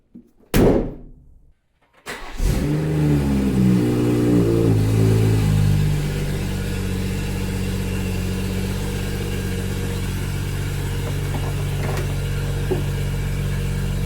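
BMW M240i with a B58 engine: a hood slams shut, a short pause, then the engine cranks, fires with a loud rev and settles into a steady idle that hums on to the end.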